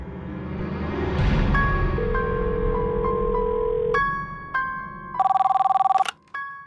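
A phone ringtone plays an incoming call as a melodic sequence of electronic tones over a low hum, ending in a brighter repeated ring before it cuts off.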